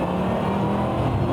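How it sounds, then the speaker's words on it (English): A deep, loud 550-horsepower Aston Martin V8 Vantage engine roar with exhaust and intake bellow, steady and close, revving briefly. "the Aston Martin exhaust bellow, intake bellow is there"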